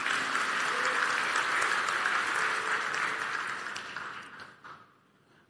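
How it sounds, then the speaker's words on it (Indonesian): A congregation at a sermon applauds together, a broad, steady wash of clapping that holds for several seconds before fading away to quiet near the end. "Kita boleh beri tepuk tangan ya?"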